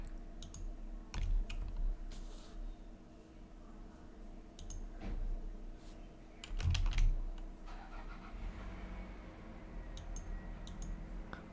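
Computer keyboard and mouse clicks while working in Creo CAD software modelling a Toyota 86 side panel, with sparse soft clicks and key taps at close range over a quiet room hum.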